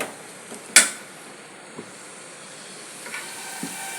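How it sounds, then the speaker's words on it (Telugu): Masala and tomatoes cook in a pan with a steady, soft hiss of frying and simmering, punctuated by a sharp clink near the start and a few faint taps later; no voices. "ఇంకా దీంతో పాటే మసాలా మగ్గుతుంటుంది, టమాటాలు మగ్గుతుంటాయి"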